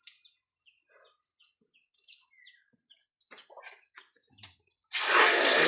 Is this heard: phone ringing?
no